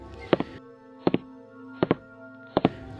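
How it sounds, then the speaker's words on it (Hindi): Footsteps of someone walking through a haunted mansion: four pairs of heavy, hollow thuds at a slow, even pace, set over a low, sustained eerie drone. "तभी कुछ देर में अचानक से किसी की चलने की आवाज़ आने लगी।"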